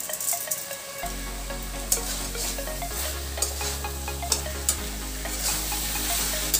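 Boiled chickpeas stir-fry in a pan for dhaba-style chana masala, a continuous hiss of frying under a low hum, with repeated scraping and clattering strokes of a spoon spread evenly throughout.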